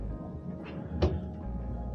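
A mini fridge door in a Disneyland Paris Dream Castle Hotel room is pulled open. It gives one short seal pop and a muffled thud, close and fairly quiet, with a faint earlier click.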